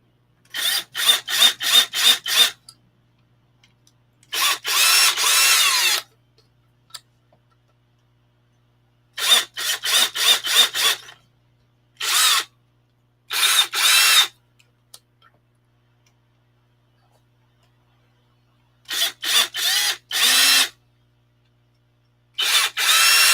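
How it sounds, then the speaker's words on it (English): An electric drill whirs through plastic in repeated bursts, some short pulsed triggers and some longer steady runs, loud and close with silence between. "I'm gonna just basically drill."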